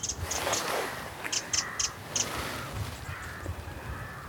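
Harsh, cawing rook calls repeat several times in a loose series, moderately distant, over a steady outdoor background hiss on a bird walk on the Isle of Wight.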